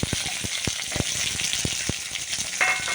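Green chili, with small onions, frying in hot oil just after mustard seeds have popped, for Kerala sadhya sambar: a steady close sizzle with sharp pops and crackles spaced through it, and no talking.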